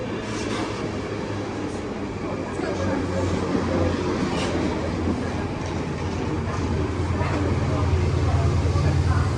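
Steady, loud rumble of a moving train heard from inside the carriage, with continuous low-frequency drone and faint rail clatter throughout; people talk briefly over it.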